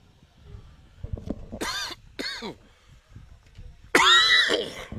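A baseball announcer coughs and clears his throat in a few sharp bursts, close to the mic, the last one loudest.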